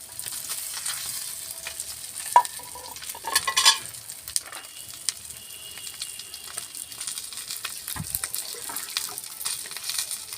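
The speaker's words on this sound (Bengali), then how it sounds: "বাকি মাছগুলো আছে আমি ওই একইভাবে ভেজে নেব" Fish frying in oil in a pan, a soft continuous sizzle with a few sharper clatters and splashy bursts, fairly quiet and without talk.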